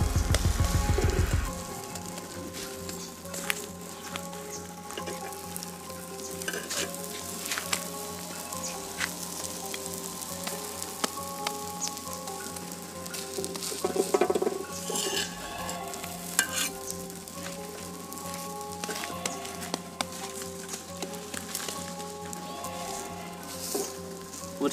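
A large pizza-sized quail egg omelette sizzles in a frying pan, a steady crackling fry that carries on for the whole stretch, close and even, with no one talking.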